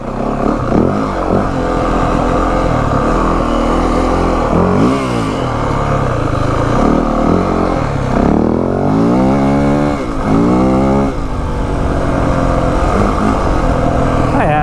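A 2025 Yamaha WR 450F dirt bike engine revs and pulls hard under throttle, its pitch climbing and falling in repeated loud surges with engine clatter close by, continuous throughout.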